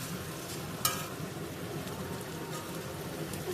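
Onions for chicken curry fry in a pan with a constant soft crackling sizzle, interrupted by an occasional stirring scrape and small pops.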